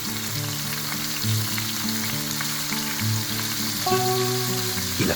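Chopped onion sizzles steadily in a pan, a continuous frying hiss running beneath steady background music for the whole stretch.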